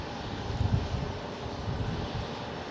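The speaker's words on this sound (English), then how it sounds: "That was a nice all black Gulfstream." An all-black Gulfstream business jet roars in a low, steady engine rumble while landing on the runway at San Jose airport, heard from a distance with a slight swell early on.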